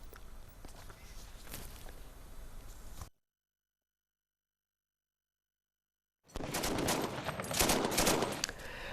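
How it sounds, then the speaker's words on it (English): Heavy machine gun fire from clashes between army troops and militants near the town of Shirqat: dense, crackling bursts in two stretches split by a few seconds of silence, the later stretch louder and busier. "army troops engaged in heavy machine gun clashes with the group near the town of Shirqat"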